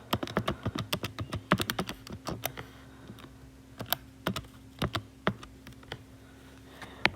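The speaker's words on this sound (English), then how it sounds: "When we type that into the calculator" Fingers tapping number keys on a calculator make quiet, quick clicks in short irregular bursts with pauses between them, heard close and alone over a faint steady hum.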